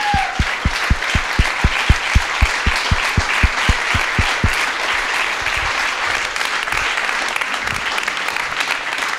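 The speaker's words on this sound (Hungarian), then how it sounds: "úgyhogy szerintem egy rohadt nagy tapsot megérdemelnek." Audience at the opening of the 24th Budapest Pride LGBTQ Festival in 2019 claps and cheers, starting with rhythmic unison clapping that breaks into dense, steady applause.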